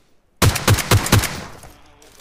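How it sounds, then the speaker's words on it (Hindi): PUBG Mobile gunfire: four quick, evenly spaced loud shots burst out of silence, close and punchy, then trail off into a fading echo. "इधर से कौन फायर कर रहा था?"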